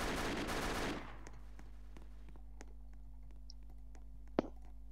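Roblox gunfire sounds as a dense burst of rapid shots in the first second, then thins into scattered faint clicks and pops with one sharp crack near the end, over a constant low hum.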